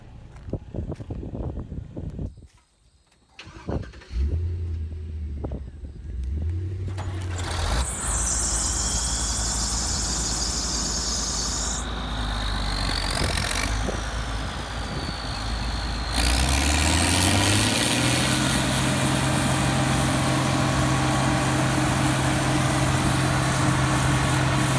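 A vehicle engine pulls a trailer during a 2020 bean harvest, a loud, steady drone close by that rises in pitch partway through and then holds at a higher, stronger level, with no talking.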